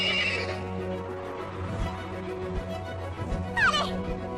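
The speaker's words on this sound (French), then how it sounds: "Trop fort, les chevaux volants." Animated flying horses give a single sharp, rising whinny near the end, loud and close, over a busy cartoon soundtrack with low music.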